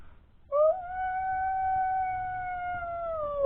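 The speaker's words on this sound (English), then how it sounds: "A long, shuddering howl." A long, shuddering howl rises from far down a hill and holds as a single sustained, slightly wavering tone for about three seconds over a faint low rumble.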